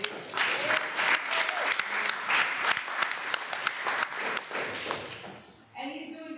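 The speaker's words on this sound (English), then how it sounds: "give them a warm applause" A meetup audience gives warm applause, a full crowd clapping loudly and steadily before it dies away near the end, with voices coming in afterward.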